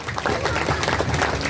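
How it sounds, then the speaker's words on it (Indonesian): Crowd applause at a new-house thanksgiving celebration with guest Bugis performers: a loud, dense wash of clapping mixed with voices and cheering from the audience. "Tepuk tangan semuanya."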